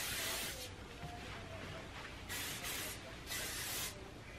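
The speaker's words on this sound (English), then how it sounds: "I spray my hair with hairspray before I curl it" Several short hissing bursts from an aerosol hairspray can sprayed onto hair, close by, with brief pauses between them.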